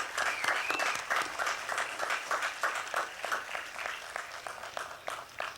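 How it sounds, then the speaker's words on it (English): An audience at a skate park dedication ceremony applauds the construction workers: a sustained round of many people clapping together, moderately distant and fairly quiet, lasting several seconds without a break. "Please give these gentlemen, workers, a round of applause."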